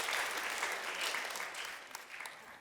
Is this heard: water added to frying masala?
no